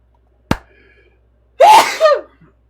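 During a tabletop role-playing game session, a single faint click comes first, then one loud, close sneeze with a sharp intake and a forceful burst that trails off.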